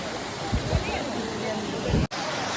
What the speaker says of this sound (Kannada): ಸೊ ಫುಲ್ ಬೆಟ್ಟದ ಮ್ಯಾಗಿಂದ ನೀರು ಬರಕತ್ತಿ.